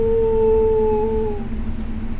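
A person imitates a wolf howling, a single long steady tonal howl that holds, then slides down and fades, heard alone and fairly close.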